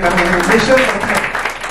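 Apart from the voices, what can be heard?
audience applause at a birthday celebration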